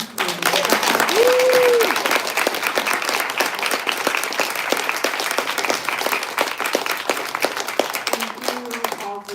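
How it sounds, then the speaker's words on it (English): An audience at an evening book publication event applauds in a steady, dense round of clapping that stays loud throughout, with a brief voice near the start. "So please give another round of applause for joining"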